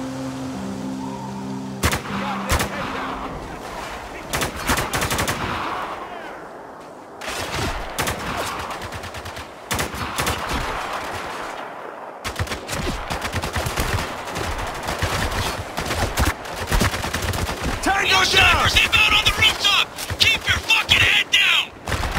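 Gunfire from snipers and other weapons in the war shooter game Spec Ops: The Line, with repeated sharp shots and bursts through the scene, loud and near, mixed with game noise and occasional voices.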